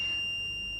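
A buzzer on an LED distance sensor project sounds as a steady, high electronic tone, continuous and fairly loud over a faint background hum for under a second, with no voices.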